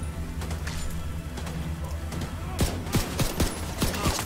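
A pistol fires in The Division 2 video game, a quick series of sharp close shots over a steady rumbling game background with faint voices.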